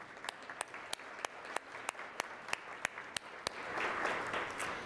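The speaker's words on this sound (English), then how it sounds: "So please let's give them a round of applause" An audience claps for sponsors at a civic club luncheon program, with a few sharp, distinct claps up close standing out over a softer spread of applause that swells near the end.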